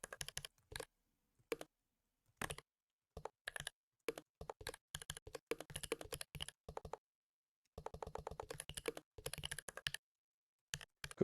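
Bursts of typing on a computer keyboard while building a marketplace app, crisp key clicks in short irregular runs separated by silent pauses, close and clear with no voices.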